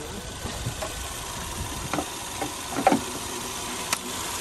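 A Ford Mustang engine runs with the hood open, giving a steady idle rumble with occasional sharp ticks and knocks over the continuous hum.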